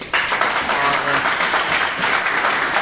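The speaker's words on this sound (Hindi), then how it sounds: "देखिए बच्चे सब आए हैं और जोरदार तालियां बजा रहे हैं इस सुबह सुबह" Children clapping loudly in morning applause at a study centre, a dense sustained burst of many hands, with a voice briefly speaking over it.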